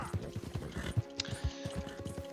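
A horse's hooves clip-clop in a quick, even rhythm in the Red Dead Redemption 2 video game, close and moderately loud, with a brief bright metallic tick partway through.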